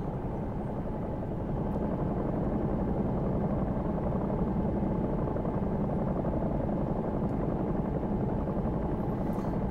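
Bell 222 helicopter in X-Plane 11 with its rotor spinning up: a steady, loud, close turbine and rotor drone holding an even level throughout, with no voices.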